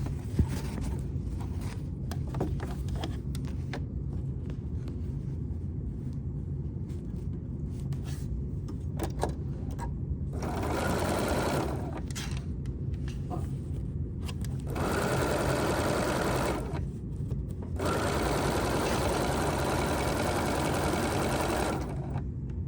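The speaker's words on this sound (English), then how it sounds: "I'm going to sew this piece to this piece, lining up my ends and my ends like that, and stitch 1/4 inch" A sewing machine stitches quilt pieces along a quarter-inch seam, its rapid mechanical whir running in several bursts separated by short pauses, close and steady, with no talk.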